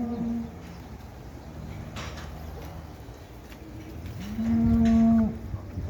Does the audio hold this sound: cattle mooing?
yes